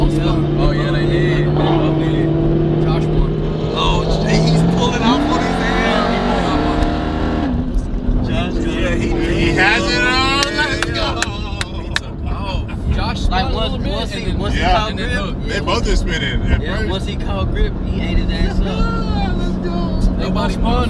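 Roaring 1000hp race cars at TX2K spin out, engines revving and wailing at high pitch with shifting tones, loud and close, while people talk excitedly throughout.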